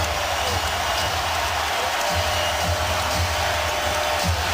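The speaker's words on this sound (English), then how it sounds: "Oh, this crowd is alive again." Basketball arena crowd at the 2007 NBA Finals, Spurs versus Cavaliers Game 4, a steady loud roar of cheering filling the hall, with a commentator's voice faintly underneath.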